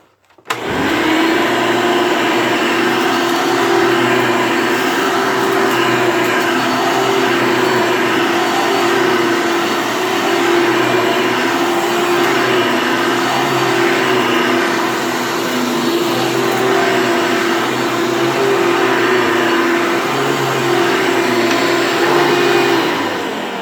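A Hoover Elite vacuum cleaner switches on and runs at full power, a loud, steady, close motor whine and airflow roar that holds evenly for over twenty seconds with no talking.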